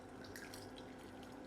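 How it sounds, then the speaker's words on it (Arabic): Water runs into a frying pan set on a gas camping stove, a steady splashing trickle heard close up with no talking. "وهننزل فيهم كده بشويه ميه."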